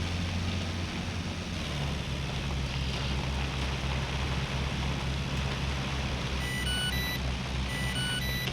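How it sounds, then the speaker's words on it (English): Beeping coffee alarm in SCUM sounding in steady, evenly spaced tones over a constant loud low engine-like rumble and wind noise, repeating several times toward the end. "there's my fucking coffee alarm going off"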